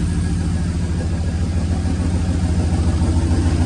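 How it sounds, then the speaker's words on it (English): A truck's 6.0 Vortec V8, fitted with upgraded 58 lb/hr fuel injectors, idles at a raised 700 to 800 RPM with a steady low rumble and even, throbbing pulse, close by and alone. "I idled it up a little bit, between 700 and 800 RPM for idle speed."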